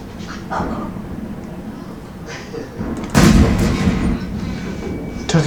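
Heavy tank cannon fire and shell impacts in World of Tanks, with the Jagdtiger taking a hit from a T-110E5, a low rumbling engine bed broken by a loud booming blast around the middle that lingers and fades.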